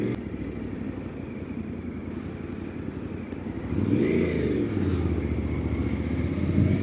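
A Suzuki V-Strom 800 RE motorcycle creeping along at slow speed, its engine a steady low rumble that swells briefly in a soft rev midway, then settles back to a low idle-like drone.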